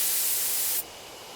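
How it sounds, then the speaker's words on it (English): A sprayer in the video game Death Mark releases a steady, loud hiss of drug spray at a beehive, then cuts off sharply partway through, leaving a faint background hum. "Take careful aim and spray the drug."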